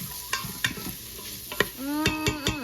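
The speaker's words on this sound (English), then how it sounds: "we're starting to sizzle in here" Food heating in a pan on a home stovetop, giving a soft sizzle under a series of sharp stirring knocks and scrapes of a utensil against the pan, with a rising hum near the end.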